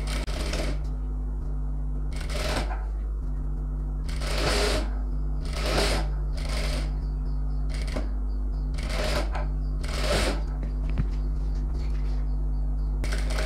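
A sewing machine stitching the lining of a designer blouse, running in short, evenly spaced bursts of rapid mechanical clatter about once a second, close by over a steady low motor hum, with pauses between runs.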